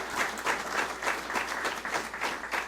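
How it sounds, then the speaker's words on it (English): A crowd at a ribbon cutting ceremony claps steadily for nearly three seconds, a dense, even patter of many hands heard at moderate distance with no break. "If I could ask a round of applause for the Board of Trustees of Citizens in Montevue."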